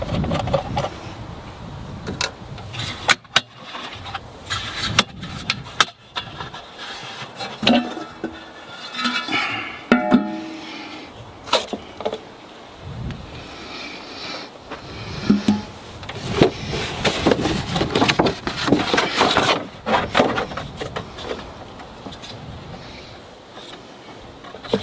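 On a Mercedes-Benz W123, a 10 mm bolt comes out and the air filter housing clips are released, giving scattered close clicks, snaps and plastic clatter in irregular bursts with quiet handling between them.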